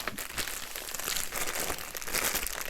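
A plastic bag protecting a pastel art canvas set crinkles and rustles steadily at close range, with continuous crackling handling noise and no talking.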